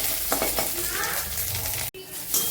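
A spice mix with curry leaves sizzles and fries in a pan for an aloo paratha potato filling. The crackling is continuous and close, with a few soft scrapes of stirring and one abrupt cut before the frying resumes.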